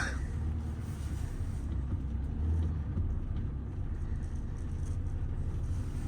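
Volvo rolling slowly backward under its own power in first gear, a low, steady engine hum heard from inside, fairly quiet and even throughout.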